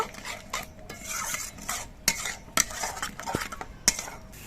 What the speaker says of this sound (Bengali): এবার মশলাগুলো আমি কিছুক্ষণ কষিয়ে নেব।